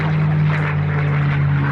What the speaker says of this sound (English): that's him taking off right now